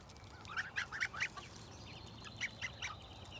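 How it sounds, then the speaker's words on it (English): Several young geese, about two months old, honk in short bursts, a cluster of calls followed by a pause and another quicker run of honks, moderately close over a faint background. "The geese are the fun guys."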